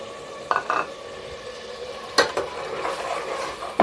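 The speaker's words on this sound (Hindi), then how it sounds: "इसको हम आस्ता आस्ता चम्मच चलाएंगे और ताकि हमारा मसाला अच्छा तैयार हो जाए" Spoon stirring tomatoes, green chilies, ginger-garlic paste and masala in a pan for a pumpkin and chana dal curry: a soft steady sizzle with a few scraping, clinking strokes against the metal.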